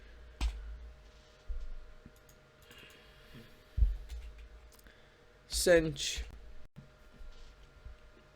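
Typing on a computer keyboard while playing Football Manager, with a few sparse, soft key clicks and a short burst of quicker taps, heard up close in a quiet room, with a voice talking at times.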